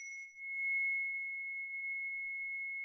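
A small crystal quartz singing bowl gives a single pure, steady ringing tone that holds evenly at moderate level for a few seconds, with a faint higher overtone fading early.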